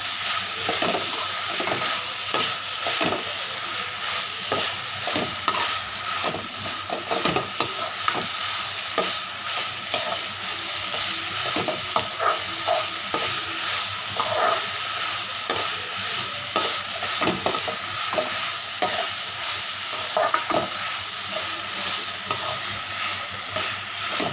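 Onion, tomato and coriander sauté in a pan for chutney, a continuous gentle sizzle with frequent scraping and clinking of a spoon stirring against the pan, steady and close throughout without speech.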